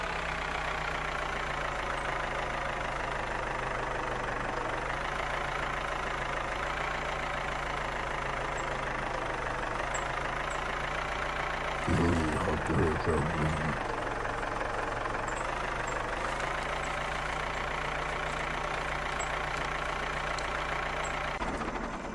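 A tractor engine in the farming game Farmer's Life runs steadily while ploughing, with a constant low droning hum and a brief rougher, knocking burst partway through.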